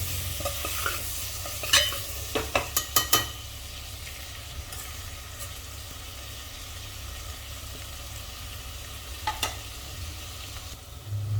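Potatoes and tomatoes frying in a pan for Sindhi-style aloo matar, a low continuous sizzle broken by a quick cluster of spatula scrapes and clicks early on and another brief pair near the end.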